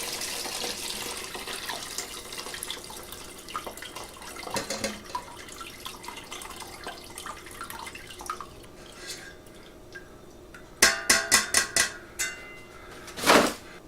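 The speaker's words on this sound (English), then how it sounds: "you just pour it slowly so that you get as little splashing or whang as possible" Homemade turkey stock is poured slowly through a strainer into a new pot, a steady faint liquid trickle with light splashing, ending in a few clinks and a louder clatter of the pot.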